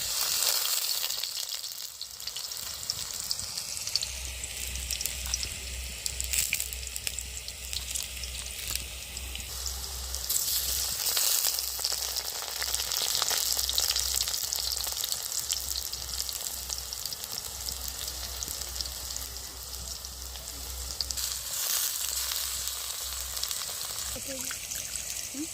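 Squeezed wild mushrooms hit hot oil and fry with a loud, continuous sizzle and crackle, staying dense and close throughout while a low hum runs beneath and someone talks now and then.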